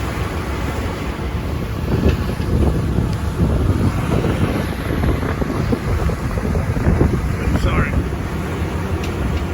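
Strong wind howls and buffets the microphone during a storm at sea near small pangas, with rough water sloshing underneath, loud and continuous throughout, and a brief spoken word partway through.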